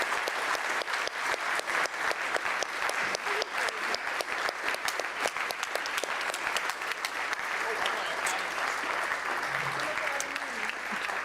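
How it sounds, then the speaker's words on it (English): A summit audience applauds panelists with dense, sustained clapping from a large crowd that stays loud and even for about eleven seconds before thinning slightly toward the end. "Let's give it a round of applause for these excellent remarks from our panelists"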